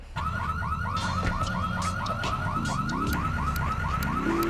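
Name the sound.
Banshee car alarm in GTA 3 video game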